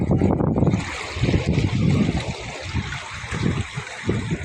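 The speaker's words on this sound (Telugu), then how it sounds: "చూడండి ఎట్లా పోతున్నాయి వాటర్." Chemical-polluted water from an industrial area runs into a pond at Chandanavelli, a steady, fairly loud gurgling flow with splashy pulses throughout.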